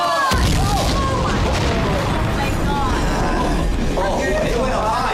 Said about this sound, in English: That explosion was incredible.